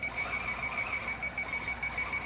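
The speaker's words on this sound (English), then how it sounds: "So you see that beeping noise?" A Tops Live 21X Elite quilting machine running near the edge of the quilt, sounding a steady, continuous high electronic beeping over its hum, loud and close with no speech.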